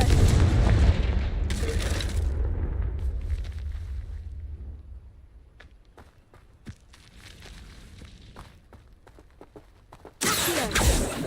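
A Confringo fire spell explosion in Hogwarts Legacy: a heavy booming blast with a long rumbling tail, scattered impacts and clicks, then a second loud burst near the end.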